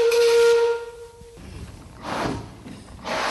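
A steam locomotive whistle, a steady tonal blast that sounds for under a second, then gives way to hissing steam bursts that rise and fall.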